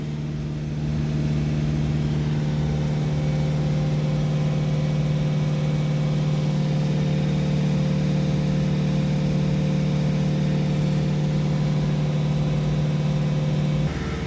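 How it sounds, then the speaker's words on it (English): Peugeot Boxer 2.0 van engine held at raised revs during a NOx sensor relearn, a steady, loud drone with a strong low hum that stays even and unbroken throughout. "So we started revving up again."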